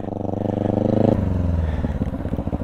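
Motorcycle engine, ridden by a learner letting out the clutch, holds a steady loud drone, then shifts pitch and becomes choppier as the bike pulls away; no talking.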